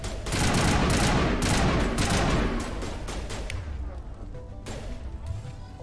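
Gunfire in the video game Mass Effect Legendary Edition as shots knock down enemy shields, dense rapid bursts of shooting and impacts that ease into sparser cracks, loud and close, with a voice speaking under it.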